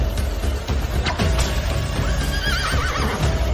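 A horse neighs with a wavering whinny amid hoof clip-clops and dense, loud background noise, sounding close and busy throughout.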